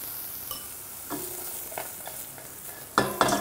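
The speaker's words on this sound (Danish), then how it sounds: "Og vi har en gryde her med en lille smule olie i. I med gulerødderne." Carrots sauté in a little oil in a pot, with a soft sizzle and intermittent stirring scrapes and clinks that grow louder and busier toward the end.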